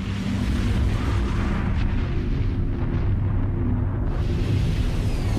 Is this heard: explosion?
yes